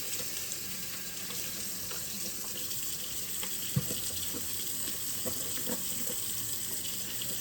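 Water runs steadily from a tap over a whole raw turkey being rinsed in a sink, a constant close hiss with a few soft splashes and knocks.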